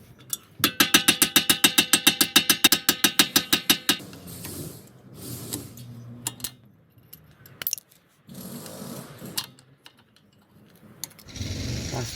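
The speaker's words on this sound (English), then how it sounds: "So once the locking pin is out, I'm gonna be tapping the pin from here." Hammer blows tapping out the rear brake pad locking pin on an Audi Q7 caliper: a rapid, even run of about fifteen sharp metallic taps up close, then a few scattered knocks and handling clatter.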